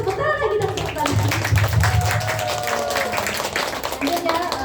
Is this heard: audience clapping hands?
yes